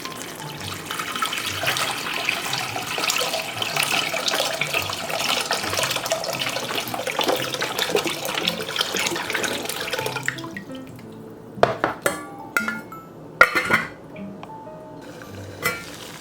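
Water runs steadily from a tap into a big cooking pot for boiling, a loud continuous rushing splash that stops partway through, followed by a few sharp metallic clinks and knocks of the pot.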